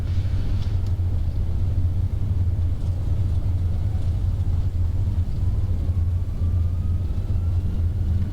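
Thrust reversers on a Vueling A320 in a flight simulator roar steadily through a landing rollout, a loud continuous low rumble with a faint descending whine, unbroken for several seconds with no talk over it.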